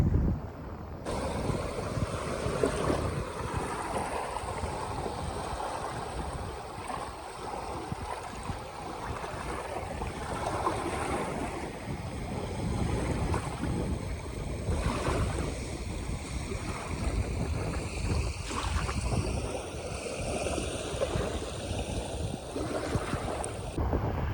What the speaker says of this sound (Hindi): पानी का शोर भी सही महसूस होना उसी।